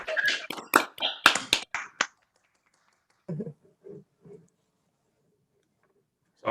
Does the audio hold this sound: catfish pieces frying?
no